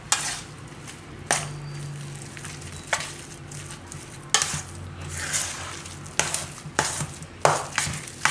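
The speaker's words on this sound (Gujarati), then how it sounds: "હવે આ બધું આપણે મિક્સ કરી લઈશું." Mashed potato and spinach filling is mixed with ghee and coriander in a pan, with soft squelching stirs and several sharp spoon knocks against the pan at irregular intervals, nearby and without speech.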